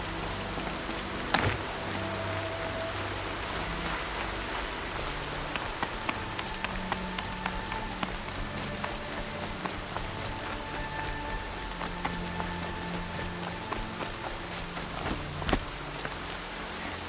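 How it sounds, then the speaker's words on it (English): Constant video game rain patters on a surface with scattered sharp drips and faint tonal hums in the background, even and unbroken throughout. "More rain."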